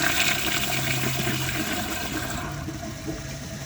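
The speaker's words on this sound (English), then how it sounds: "Let's give it another flush and see what it can do." A 1 gallon Round 2016 ProFlo Gilpin toilet flushes with a loud, close rush of swirling water that fades slightly toward the end, with no voices.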